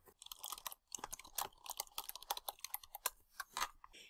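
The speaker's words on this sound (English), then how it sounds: "So I'll type that in." Rapid, uneven clicking of fingers typing on a computer keyboard, close and crisp, with short bursts of keystrokes and brief pauses, no talking.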